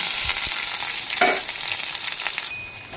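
Chopped onions sizzling in hot oil in a wok with bay leaf and whole spices, a soft continuous frying hiss with a few stirring scrapes, no voices.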